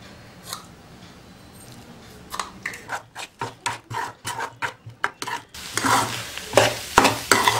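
Egg podimas with onions is stirred in a pan over low heat. A quiet start gives way to a quick run of rhythmic scraping strokes from the spatula, then a louder, busier sizzle near the end.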